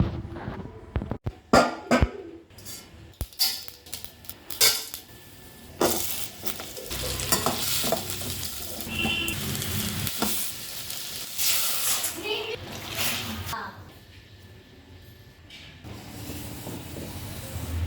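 Wheat rava upma cooking in a pot, a continuous hissing bubble with bursts of clattering spoon and lid knocks, loud at first and easing to a quieter steady simmer later, with no talking.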